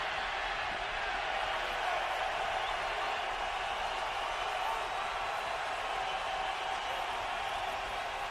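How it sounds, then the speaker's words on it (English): Large football stadium crowd at an NFL game between the Carolina Panthers and Tampa Bay Buccaneers, a continuous loud roar of cheering that holds steady throughout, dense and distant-sounding, filling the whole scene. "And the crowd rises up."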